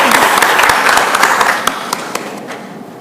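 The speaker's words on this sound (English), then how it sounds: "So help me give another round of applause to Maisie." Applause from the audience at a city council meeting honoring a junior high student, a dense steady clapping that holds strong and then gradually thins and fades over three seconds.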